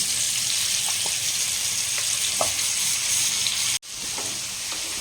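A tikka masala mixture sizzles loudly in melted butter, a dense continuous hiss with a few faint clicks, briefly cut to silence near the end before the frying resumes.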